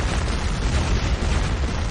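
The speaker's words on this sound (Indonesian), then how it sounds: "Meriam ini sangat tangguh." A cannon fires with a sustained, rumbling explosive roar, loud and broadband, with no talk.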